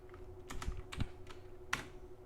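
A computer keyboard clicks as a command is typed for PGP file encryption, with a few distinct, fairly quiet keystrokes spaced irregularly and no voices.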